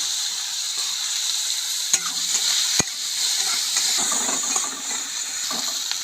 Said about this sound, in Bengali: কেটে রাখা পেঁয়াজগুলো দিয়ে দেবো